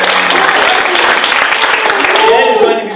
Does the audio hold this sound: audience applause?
yes